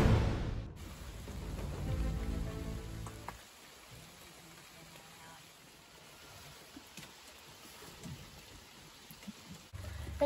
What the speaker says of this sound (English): It is pouring down rain and it won't stop raining.